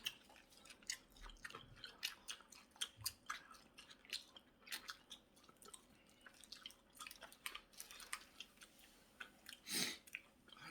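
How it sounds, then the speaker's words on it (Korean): Close, wet chewing and tearing of Korean pork trotters (jokbal), a steady run of squishy bites, smacks and crunchy pulls with brief sticky drips, no talk, one louder bite near the end. "족발을 두 개를 이렇게 뜯어 먹어요."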